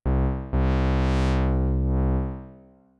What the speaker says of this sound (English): I can play with the cutoff here.